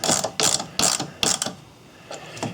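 A ratchet clicks in four quick bursts, snugging three 8mm head bolts on a Ford Edge 3.5L engine bay, followed by two softer, fainter ratcheting passes; close and alone.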